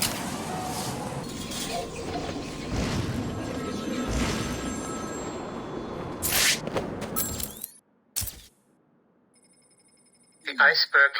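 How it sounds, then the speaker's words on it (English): A telephone rings somewhere in the Batman Arkham City video game, its tone buried in dense, noisy game ambience with possible voices, before everything cuts abruptly to near silence and a few sharp chirps return at the end. "There's a phone ringing somewhere."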